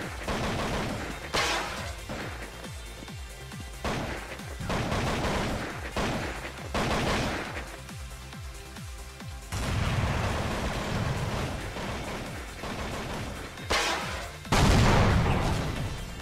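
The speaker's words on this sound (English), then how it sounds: "GetRight and Face throw smokes and flashes in mid to keep Na'Vi from rotating" Smoke and flash grenades thrown in Counter-Strike 1.6 mid during a pro match, heard as a dense run of sharp pops, bursts and hissing bangs that come in repeated loud waves with no talk over them.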